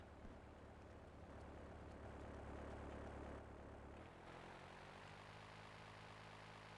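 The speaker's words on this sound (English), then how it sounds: "That plane was quite bouncy when it came down." Propeller plane in Grand Theft Auto III, a steady droning engine hum with buzzing harmonics that shifts pitch and thins out as it comes down to land, heard alone without speech.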